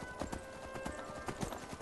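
Horse hooves clip-clop in the video game Skyrim, a steady close rhythmic trot of hard hoofbeats on the ground, fairly quiet throughout with no talk.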